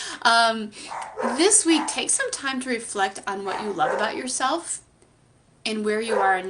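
Dogs bark indoors in the background while a person talks almost continuously, the barking staying mostly beneath the voice.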